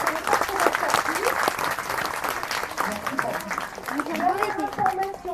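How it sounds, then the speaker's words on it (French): Audience applause at a live bird show featuring an Egyptian vulture, steady clapping throughout with voices and chatter mixed in over the crowd. "Vous pouvez l'applaudir, il a bien travaillé sur la musique"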